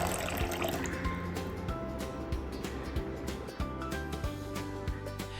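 Water poured into a pot holding lemon slices, lemongrass and ginger, a continuous soft trickling splash with small drips, fairly quiet and with no talk.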